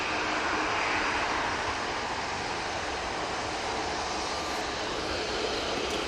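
A Jet2.com passenger plane at Manchester Airport gives a broad, steady jet roar, fairly distant and even throughout, with no voices over it.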